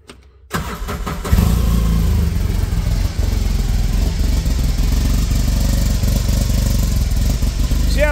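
An Arctic Cat high-performance side-by-side engine cranks briefly, catches and settles into a loud, steady, close-up idle that keeps running throughout with no talking.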